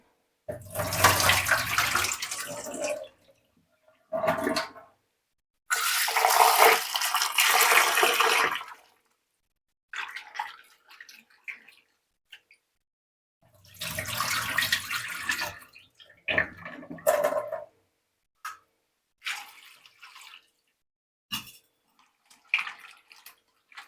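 Running tap water gushes in several separate bursts over potatoes being washed, with quiet pauses and small splashes between them, close by.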